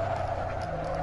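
A short tire squeal from a car skidding under handbrake in Assetto Corsa on PS4, a sustained tonal screech over engine hum.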